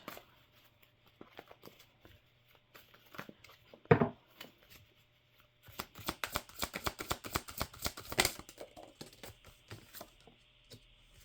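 Tarot cards are shuffled and pulled, with scattered soft taps and one sharp slap, then a fast rippling riffle of close crisp flicks in a quiet room.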